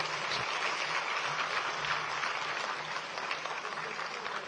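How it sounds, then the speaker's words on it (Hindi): Steady applause from a large crowd fills the space, a continuous dense patter of clapping heard from a slight distance. "आप सभी से तालियों की हौसला अफजाई चाहिए।"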